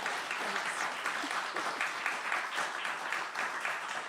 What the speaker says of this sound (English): we have a round of applause for Anne for sharing the films.